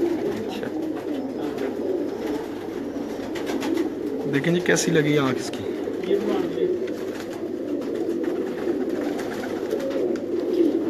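A small pigeon held in someone's hands gives soft, repeated throaty coos, close by, under ongoing conversation between men.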